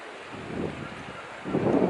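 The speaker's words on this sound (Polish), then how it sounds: "mocno wiatr wieje od morza" Gusty wind off the sea buffets the microphone in low rumbling surges, strengthening toward the end, with no speech.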